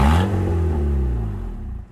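A loud, raw Honda Civic engine with no exhaust and an open header revs close by with a rough, open-pipe roar, then slowly winds down over two seconds.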